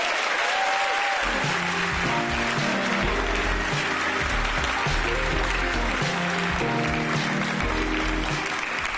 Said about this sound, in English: Again, a big round of applause for Mayor Karen Bass.